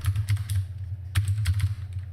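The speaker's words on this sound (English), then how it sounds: "I will just type it in." Fingers tap on a computer keyboard in two quick close bursts of clicky keystrokes separated by a brief pause, over a low steady hum.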